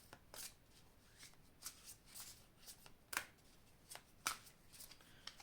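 Tarot cards being shuffled and drawn, a series of crisp riffling and slapping bursts with short pauses between them, close and fairly quiet.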